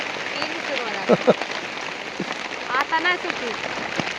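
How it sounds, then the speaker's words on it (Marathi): Steady rain hiss fills the background throughout, with people talking over it and a few louder close knocks. "आता झाला पाऊस चालू"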